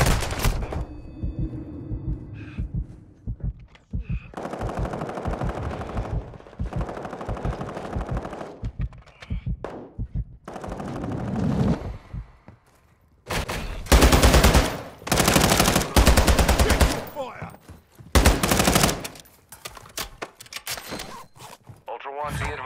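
Machine gun fire from the video game Call of Duty: Modern Warfare II comes in loud, rapid bursts that stop and start, with heavier volleys near the end and voices speaking between them.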